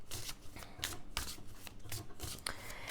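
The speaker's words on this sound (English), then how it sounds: "Shuffle with a little more intention." Tarot cards are shuffled by hand in quick, papery riffles and slides, a close rhythmic series of crisp bursts with no talking.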